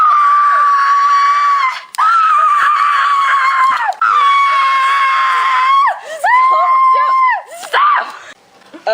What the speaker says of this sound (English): She just had to stop screaming.